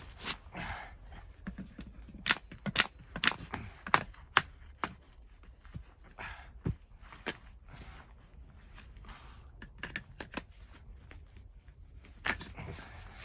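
An airsoft gas blowback rifle fires outdoors in winter with a fresh magazine, giving sharp, quiet snapping shots, some single and some in quick clusters, separated by stretches of near silence.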